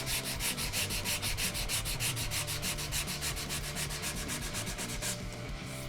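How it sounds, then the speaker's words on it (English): Sandpaper rubs along the grain of a wooden guitar neck in a quick, steady rhythm of close strokes that stops near the end, with no talking. "changing the direction with my sandpaper to follow the grain"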